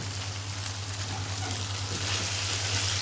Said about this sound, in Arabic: انا بحمر الممبار بالسمنه